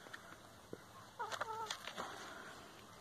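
Farm chickens clucking softly, a few short bursts of hen vocalizations from a moderate distance over quiet rural background noise, with no talking.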